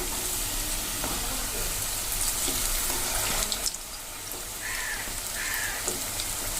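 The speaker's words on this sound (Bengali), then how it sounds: "আমাদের এক পিঠ ভাজা হয়ে গেছে মোটামুটি" Vegetarian banana flower kofta balls fry in hot oil, a dense continuous sizzle close up with occasional scraping and stirring clatter from a spatula.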